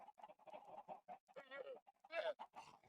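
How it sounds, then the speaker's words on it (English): Chickens in a Minecraft coop cluck in a busy, close run of short calls, with a few louder squawks mixed in and no voices. "this is my chicken coop"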